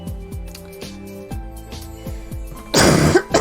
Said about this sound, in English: After I've coughed my guts up.